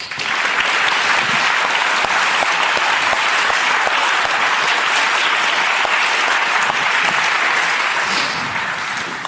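A debate audience at a Brain Bar event in Budapest bursts into steady, dense applause that fills the room at full volume and holds evenly to the end, with no voices over it.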